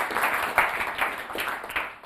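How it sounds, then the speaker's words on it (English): An audience at a talk event on refugee camps claps together in a steady, moderately loud round of applause that swells and fades over a couple of seconds. "big round of applause."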